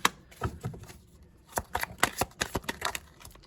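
A pile of tarot cards being handled and shuffled, with quick papery flicks and slaps coming in close, clustered bursts, loud and alone.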